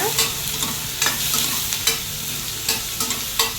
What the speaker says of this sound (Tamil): இது கூடவே கொஞ்சம் கருவேப்பிலை சேர்த்துக்கலாம் நல்லா வதக்கிக்கோங்க